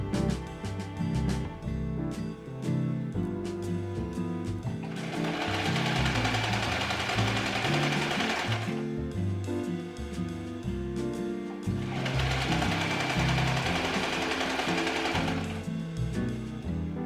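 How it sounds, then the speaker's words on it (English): A sewing machine stitches a crotch seam through curtain fabric, right sides together, in steady mechanical runs of close, loud motor hum and rapid needle clatter, with two long sustained bursts separated by brief pauses. "we're going to sew the front with the front, the back with the back, right sides together on the crotch seam"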